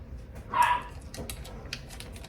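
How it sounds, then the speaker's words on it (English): A household dog barks once or twice in the background, a short burst of moderate loudness followed by faint clatter and rustling in a busy kitchen. "And now we got a dog barking."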